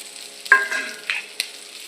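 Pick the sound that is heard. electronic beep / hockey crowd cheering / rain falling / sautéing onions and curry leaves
sautéing onions and curry leaves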